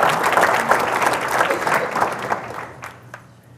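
Applause from an audience at a 2017 State of the City address, strong at first and then fading away over a few seconds into near silence.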